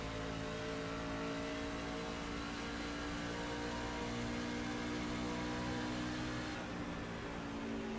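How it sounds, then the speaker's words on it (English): A race car engine in the iRacing sim racing game drones steadily and loudly at high revs, a dense continuous roar with no talking over it. "we definitely do have a fast car."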